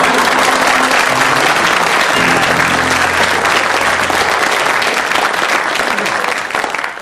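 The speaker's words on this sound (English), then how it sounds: "they got the greatest applause on that one" Studio audience applause at a comedy panel show recording, a loud, dense and sustained burst of clapping with a faint tonal hum underneath, easing off only slightly at the very end.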